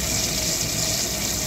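Water rushes in through a solenoid valve supply line, a loud, steady hissing gush without pause, close by.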